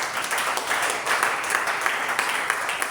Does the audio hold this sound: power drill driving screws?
no